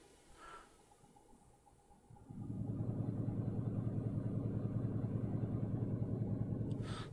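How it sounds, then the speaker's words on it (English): Engine brake of a truck in Euro Truck Simulator 2 engaging, a loud steady low rumbling drone that kicks in partway and holds strong to the end. "There you go, there's the engine brake just kicked in."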